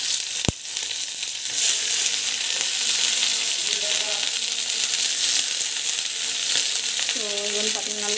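Sliced onion and curry leaves fry in hot oil with mustard seeds, giving a loud, continuous close sizzle after an opening clack, with a faint voice briefly audible toward the end.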